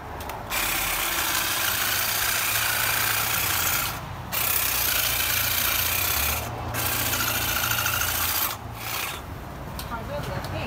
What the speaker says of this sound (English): We'll get that with a hedge trimmer.